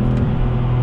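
A car engine rumbles steadily up close as the driver blips the throttle to match revs on a downshift without braking. The deep, even drone holds throughout with no talking.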